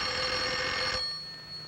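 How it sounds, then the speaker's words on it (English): A cartoon telephone bell rings in one continuous bright trill, then cuts off abruptly and leaves a faint residual tone. "Sorry, it was a ring on the phone."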